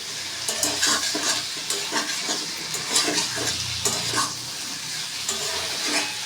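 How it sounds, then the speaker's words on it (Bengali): Bottle gourd curry with coriander leaves being stirred in a pan, a steady sizzle of frying under repeated scraping strokes of a spoon close by, with no talking. "এবার একটু ধনে পাতাটা একটু দিয়ে নেড়ে চেড়ে নিলাম"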